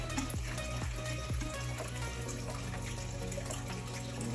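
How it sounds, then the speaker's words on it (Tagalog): Water gurgles and trickles steadily as it is pumped out of a fish tank, with a low mechanical hum underneath and a few small knocks. "tanggalan natin ang tubig. Pump lang, pump."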